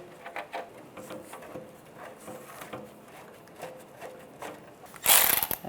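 A ratchet clicks in short bursts while tightening fuel injector bolts on a 1996-2002 Toyota 4Runner, quick metallic pawl ticks near and fairly faint, ending with a louder clatter.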